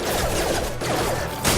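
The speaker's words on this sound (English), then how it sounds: "Taking fire." Dense gunfire rattles through a Mass Effect 2 firefight, rapid overlapping shots sustained loud and close, with a sharper burst near the end.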